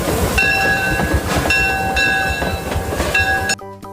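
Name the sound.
toy train sound, train imitated with chugging and toots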